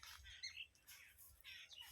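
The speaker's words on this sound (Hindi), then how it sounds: "ये कितनी सारी चिड़िया है, चहक रही हैं।" Many small birds chirp and squawk in a sown mustard field in a village, giving faint, scattered high calls in short bursts with no voices.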